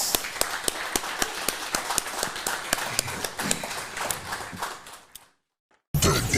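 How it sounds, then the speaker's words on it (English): A round of applause for a guest at the end of a talk show interview, with sharp claps in a steady run that fade out and cut to silence before another loud burst starts. "Let's give Elder a round of applause."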